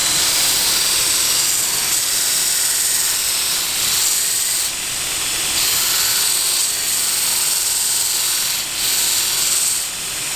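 A belt sander grinds a wooden crook knife handle into an oval shape, a steady loud abrasive hiss and whine running throughout with slight surges as the wood is pressed against the belt.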